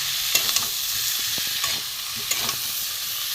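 Shrimp stir-fry with spices in a pan, giving a constant close sizzle with scattered soft scrapes and taps from stirring, steady and moderately loud throughout with no voices.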